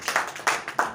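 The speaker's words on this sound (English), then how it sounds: "a round of applause for this group" A group receives a short burst of audience applause at a live civic event, three or four sharp claps close by, over in under a second.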